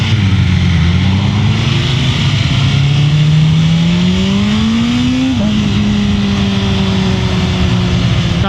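A 2024 BMW M1000R M Competition Package sportbike revs hard and accelerates, its loud engine note climbing steadily in pitch, dipping briefly at a gear change, then pulling on under heavy wind rush.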